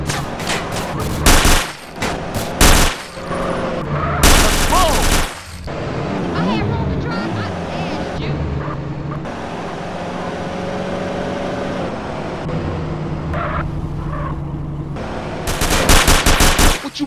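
Drive-by gunfire in GTA San Andreas: loud bursts of automatic weapon fire crackle at the start, middle and end, with a steady car engine drone and shouted character voices between the volleys.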